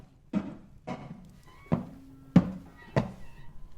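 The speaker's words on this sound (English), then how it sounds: "Something is banging on the front door below." Five heavy, widely spaced thuds strike a front door from the floor below, each a booming knock with a short decay, tense and isolated with no voices in between.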